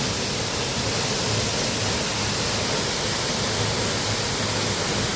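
Lost Creek Falls pours in a dense, unbroken roar of rushing water, loud and close, filling the whole stretch with steady broadband hiss and no voices.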